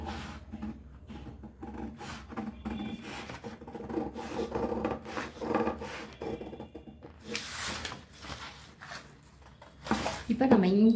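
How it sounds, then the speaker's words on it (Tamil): Blouse fabric being cut with scissors, giving close, rasping snips and rubbing of cloth in uneven stretches, heard under a speaking voice. "இதை நான் எப்படி கட் பண்ணுறதுன்னு இப்போ கட் பண்ணி காட்டுறேன்."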